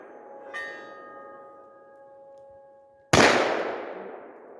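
A single double-action revolver shot at 15 yards cracks out loud and sharp near the end, its blast decaying quickly, after a ringing metallic tone hangs in the quiet.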